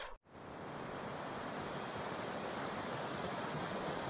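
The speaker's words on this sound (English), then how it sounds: "I love a bit of flowing water, me." Flowing water rushes steadily in remote mountain wilderness on Braeriach in the Scottish highlands, a constant broad wash of noise that fills the scene without a break, with no voices.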